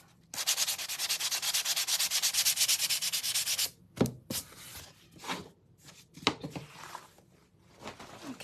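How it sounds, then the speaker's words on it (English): Fine grit sandpaper rubbed over a Santa figure in fast, even back-and-forth strokes for several seconds, close and loud, followed by scattered lighter scrapes and taps. "This is really fine grit sandpaper."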